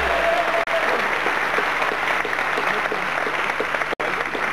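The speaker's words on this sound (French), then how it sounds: "Oui, Gaël s'applaudit lui-même." Applause on a French television game show set while a contestant claps for himself, a steady, fairly loud wash of clapping broken by two brief cuts.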